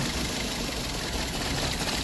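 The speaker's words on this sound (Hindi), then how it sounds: "कैसे वाइब्रेशन कर रहा है इंजन इसका देख रहे हो दर दर दर दर दर कर रही है" Toyota Etios petrol engine with one dead cylinder, running rough with a continuous uneven vibrating rumble and misfire, close and steady throughout.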